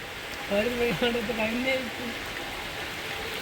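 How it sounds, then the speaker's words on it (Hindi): Heavy rain hisses steadily and evenly throughout, while a voice briefly talks over it near the start. "बारिश देखो पेल के हो रही है दबा के"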